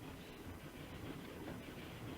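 Steady rumble and rattle of a moving train in Dragon Quest X, a continuous low, faint rolling sound with no talking.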